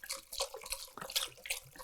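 Chicken stock from a box pouring into a soup pot for mushroom and wild rice soup, a brief splashing, gurgling liquid stream up close with no talk.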